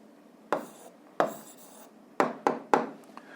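An answer is written down during a physics exercise: five sharp scratching strokes, irregularly spaced, each one short and crisp against near silence, with no speech.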